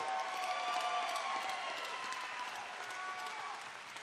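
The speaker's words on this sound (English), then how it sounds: "a round of applause for both of these athletes" A crowd at a boxing event applauds both fighters after the final round, sustained, fairly distant clapping that holds steady and slowly fades toward the end.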